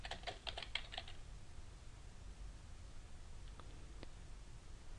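Quiet bursts of computer keyboard typing, a fast cluster of clicks at the start then a few isolated keystrokes later, over a steady hiss with no speech.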